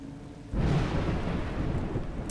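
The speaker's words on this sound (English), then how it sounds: "It's raining." Rain and thunder in the video game A Juggler's Tale: a soft rain hiss gives way to a sudden heavy rumble of thunder that rolls on under dense, steady rainfall, with no talking.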